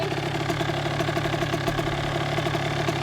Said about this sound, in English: She likes to get it good warmed up with a wide open throttle pull.